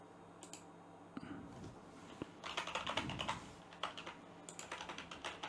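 Someone types on a computer keyboard in short bursts of quick, close, fairly quiet key clicks separated by brief pauses, with no talking.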